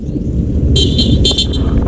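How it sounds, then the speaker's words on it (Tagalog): Vehicle passing on a road beside a cemetery in Hinubaan, a close engine rumble with a short double honk of its horn midway through. "Yan, may sasakyan na naman."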